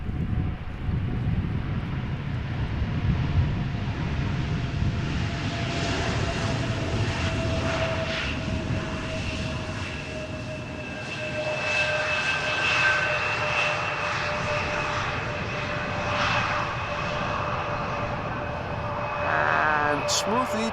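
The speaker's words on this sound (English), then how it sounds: "KLM flight 1754 arriving from Bremen, Embraer 175 doing a little wheelie." Steady, moderately distant roar of a KLM Embraer 175 jet landing at Amsterdam Schiphol, a sustained engine drone with a faint tonal whine, mixed with outdoor wind.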